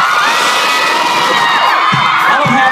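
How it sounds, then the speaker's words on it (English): A concert crowd cheers and screams loudly and continuously, with shrill whoops and yells piled up close together. "the crowd is killing it right now"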